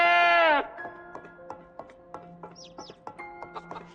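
Ewes bleating in the Project Zomboid video game: one loud, close, drawn-out bleat opens, then quieter game sounds with clicks and brief chirps follow.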